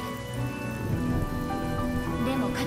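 Steady rain in Honkai Star Rail on PS5 patters as a dense, even hiss of drops across the whole moment, with faint voice or tonal background sound beneath it.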